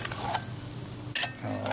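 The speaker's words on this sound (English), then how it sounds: "let's give these a stir" Hash being stirred in a Dutch oven over a campfire, with a few scraping, clattering strokes over a soft, steady sizzle, then a brief louder clatter near the end.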